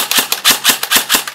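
Sharp semi-automatic shots from a G&P M4 EOD airsoft rifle, about seven crisp cracks fired in quick succession with slightly uneven spacing, close and loud with nothing else heard.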